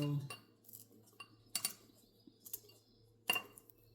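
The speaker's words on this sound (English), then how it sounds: "I'm just cutting the plant matter into this jar." Snips and small clinks as two plantain leaves are cut into a glass jar, a few separate bright ticks of blade and glass spread out over a quiet background.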